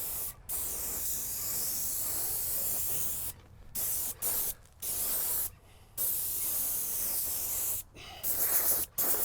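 Bursts of a stain sprayer hissing against a wooden fence face, several separate passes with short pauses between them, close and steady, no talk.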